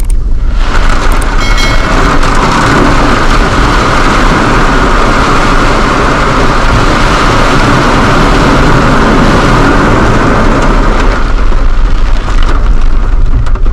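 A mountain waterfall pours straight onto a car driving beneath it on a road in the hills, a loud, continuous drumming wash of water over the roof that stays constant for the whole stretch.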